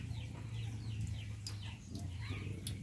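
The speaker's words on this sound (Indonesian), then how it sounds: "Ayam." A chicken clucks in a rural village outdoor setting, with short faint calls over a constant low hum and background noise.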